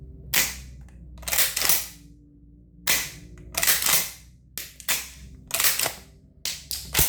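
A semi-automatic shotgun fires seven loud shots in irregular pairs and singles, each a sharp crack with a short ringing tail, close by against a low steady hum.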